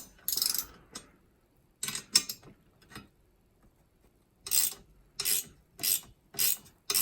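Bolts on an Audi S3 racing seat are tightened with an Allen key, giving bursts of close ratcheting and metallic clicking that come in short repeated spells separated by quiet pauses.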